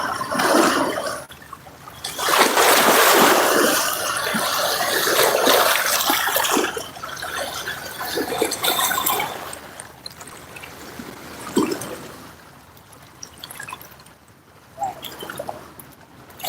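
Waves crash against the shore at a fishing spot, a loud rushing wash of surf that swells, then recedes into softer trickling water, with no voices.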